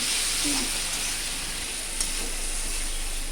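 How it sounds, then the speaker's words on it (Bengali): Spice masala cooking down in hot oil in a pan for a fish-head rice dish, giving a steady, close, loud sizzle with a faint scrape of stirring. "এভাবে তেল ছাড়া পর্যন্ত মশলাটাকে কষিয়ে নেব"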